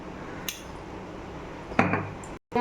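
A spoon clinks and scrapes against a cooking pot while banana flower kootu is stirred with salt, giving two brief metallic knocks in an otherwise quiet kitchen.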